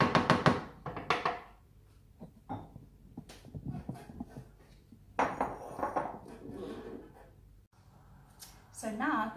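Pasta carbonara is dished up from a pan into a round bowl, with scattered clinks and scrapes of utensils on cookware and dishes coming in uneven bursts, near and fairly loud, alongside intermittent talking.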